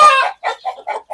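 An Ayam Cemani chicken gives a loud burst of vocalizing, followed by several short, close clucks in a steady, broken rhythm.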